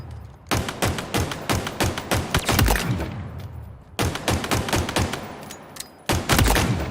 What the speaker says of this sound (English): But there's actually one gun I would like to put in the spotlight. It's the Bulldog shotgun.